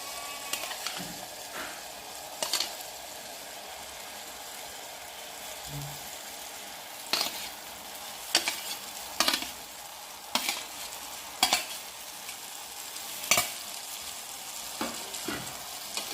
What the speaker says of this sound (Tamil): கத்தாழையை நல்லா தொலாவி விட்டுக்கலாங்க.